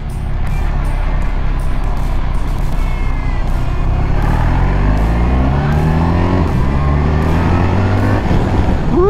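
A brand-new BMW R 1300 GS adventure motorcycle engine revs steadily and loudly, its pitch climbing and falling through several rising sweeps over about nine seconds, with no talking.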